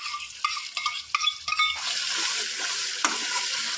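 Sour yogurt stirred into frying spice masala in a pan for a Bengali doi katla fish curry: a few quick scraping strokes, then loud, close, continuous sizzling as the mixture fries.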